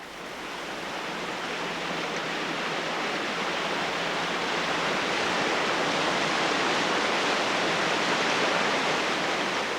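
Water rushing over limestone rocks down a valley, a steady broadband roar that holds even and loud throughout, like a nearby fast stream or small waterfall with no pauses.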